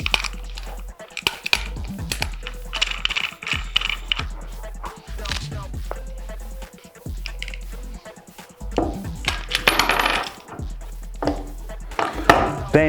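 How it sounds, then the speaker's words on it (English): A tube cutter scores its way around a copper refrigeration tube, giving a run of close metallic clicks, scrapes and rattles over about thirteen seconds, with bursts of handling noise and faint background sound. "So firstly, we cut the tube."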